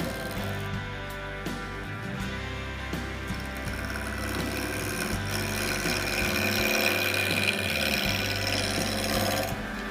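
Roughing gouge cutting a spinning wood blank on a wood lathe while turning a bottle opener handle, a steady continuous rough scraping hum with motor drone, close and fairly loud throughout with small rhythmic fluctuations.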